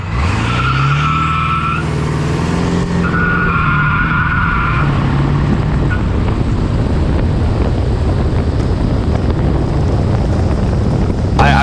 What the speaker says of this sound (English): We can't get it without spinning the tires.